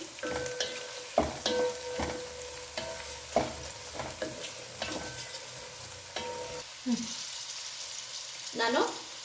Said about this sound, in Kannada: ಆನಿಯನ್ ಫ್ರೈ ಆಗಿದೆ ನಾನೀಗ ಇದಕ್ಕೆ ಸ್ವಲ್ಪ ಗ್ರೀನ್ ಚಿಲ್ಲಿ ಇದ್ದೀನಿ